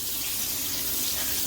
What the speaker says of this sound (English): I'm going to pour in the milk